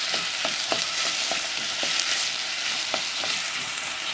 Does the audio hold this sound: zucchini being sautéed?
yes